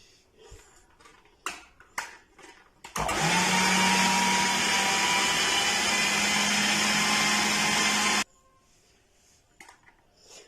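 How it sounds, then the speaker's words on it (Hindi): An electric chopper grinds soaked chana daal with finely chopped green chillies, a loud steady motor whir running about five seconds, framed by a few knocks and clicks before and quiet after. "वो भी इसके साथ ही डाल देंगे और दोबारा से इसको बंद कर देंगे और अच्छी तरह पीस लेंगे।"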